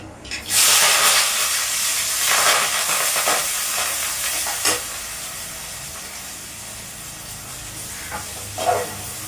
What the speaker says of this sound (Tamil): ஆனியன் நல்லா வதங்கட்டுங்க.